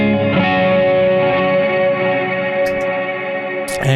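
Sustained electric guitar chords with a shimmering, doubled chorus effect ring out loud and close, with faint clicks near the end.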